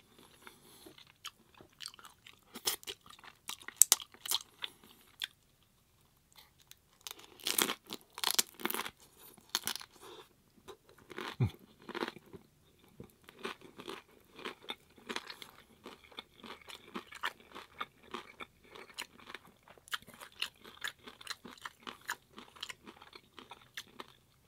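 Close crunching and chewing of vegan chick'n jumbo tacos in crisp taco shells, bursts of crackly bites and wet chewing with short pauses between, quiet and intimate with no talk.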